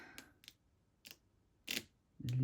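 Scissors snip through card pieces in a handful of short, separate cuts spaced irregularly, close and fairly quiet, ending with a louder clunk as something is set down.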